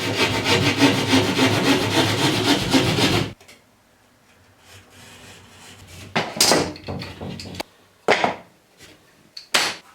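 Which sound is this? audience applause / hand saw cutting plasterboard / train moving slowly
hand saw cutting plasterboard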